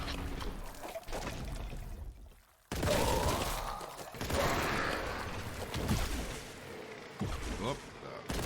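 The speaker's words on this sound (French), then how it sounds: "Le fusil à pompe directement." Shotgun blasts in Warhammer 40,000: Boltgun, loud booming bursts that come in irregular bunches, with crashing game effects around them and a short lull near the start.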